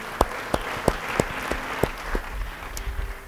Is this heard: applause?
yes